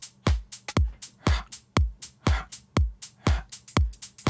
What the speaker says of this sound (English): I have that little whip that goes into the snare every time.